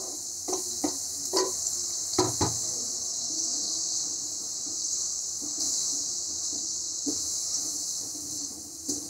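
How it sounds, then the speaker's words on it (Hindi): Finely chopped tomato sizzles in a pan for paneer bhurji: a steady high frying hiss with a few soft clicks and stirring knocks of a spoon, close and fairly quiet. "अब मैं इसमें बारीक कटा हुआ टमाटर डाल देती हूँ."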